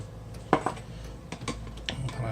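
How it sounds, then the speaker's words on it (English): A utensil stirs milk and melted butter together in a bowl, making a few distinct clinks and scrapes against the bowl in an uneven rhythm, close and fairly loud. "Stir them together."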